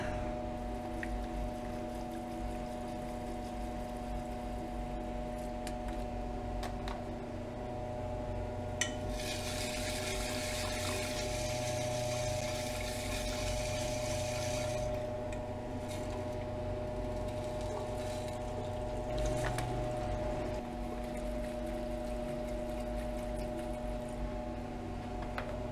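Water is poured steadily over a silver crystal to rinse it in a silver cell setup, a continuous close splashing and trickling with a louder stream in the middle stretch.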